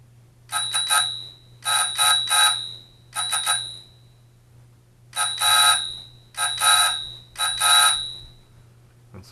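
Telegraph instrument bell ringing with its headphones unplugged, a bright metallic trill sounding in repeated short bursts, about six separate rings close by over a low steady hum, no talking.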